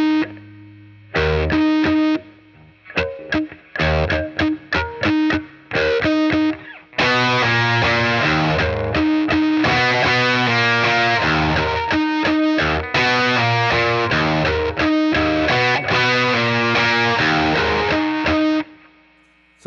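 A distorted electric guitar riff: choppy stabbed notes at first, then sustained, loud chord-driven phrases ringing with heavy overdrive and effects.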